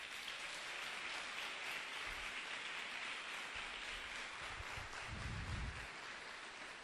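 Church congregation applauding during a sermon, a soft, distant, even hiss of many hands clapping with a low rumble near the end, faint throughout.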